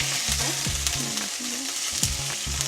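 Chopped ginger sizzles and crackles in hot oil in a pan while beef cutlet is being prepared, with the sound of stirring and a spoon scraping against the pan under the steady frying hiss.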